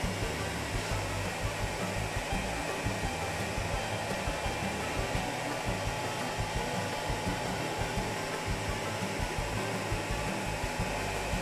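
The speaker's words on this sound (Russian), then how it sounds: "Дальше идем к 3D принтеру. После прогрева запускаем саму печать." A 3D printer runs a print with a steady, even whirr of fans and motors, continuous and fairly loud, with faint rhythmic ticks and no voices.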